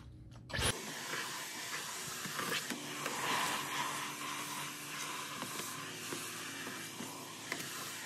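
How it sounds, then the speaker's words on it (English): A household vacuum cleaner switches on with a sudden burst and keeps running with a steady, airy whine and hiss, up close and alone, with small bumps as it is moved around. "Let's vacuum."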